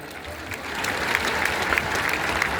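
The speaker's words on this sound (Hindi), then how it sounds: "एक बार सभी माताओं के लिए जोरदार तालियां।" Dense, steady applause from an audience of mothers at an Arya Samaj foundation day celebration in Delhi, a continuous wash of many hands clapping at moderate loudness with faint crowd murmur.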